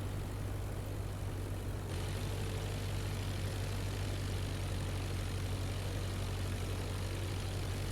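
Steady propeller aircraft engine drone in the IL-2 Flying Circus flight simulator during a crosswind landing approach, a constant low hum held at even loudness throughout with no talking.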